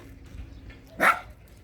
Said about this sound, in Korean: 우리 보리도 짖고 있네